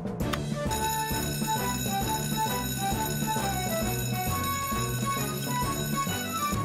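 An electric bell alarm rings continuously and loudly through a cartoon café during a fire, a steady metallic clangor that persists from start to finish with no pause.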